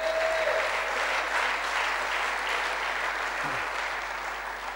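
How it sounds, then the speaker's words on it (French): Congregation applauding in a church service, a continuous even wash of many hands clapping at moderate distance, steady throughout with no voices standing out. "Est-ce que vous voulez bien les applaudir?"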